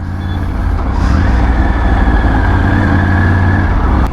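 Close, loud, steady running of a Triumph Tiger 900 GT's three-cylinder engine with its 1-3-2 firing order, a low, even throb heard alone with no voices.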